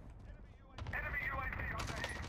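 Automatic rifle gunfire in Call of Duty Warzone cracks in a quick rapid burst after a short lull. Players talk over the shots.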